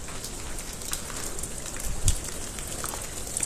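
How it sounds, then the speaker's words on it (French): Heavy rain falling inside an abandoned coking plant through a damaged roof, a dense steady patter of drops hitting surfaces, with a few louder splashes nearby. "vous voyez comme il pleut fort à l'intérieur"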